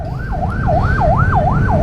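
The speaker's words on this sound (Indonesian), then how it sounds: "Oke, ada ambulans lewat." An ambulance siren wails in a rising and falling sweep, repeating steadily while stuck in a heavy traffic jam on a road toward a lake, loud and close over a dense rumble of engines and traffic.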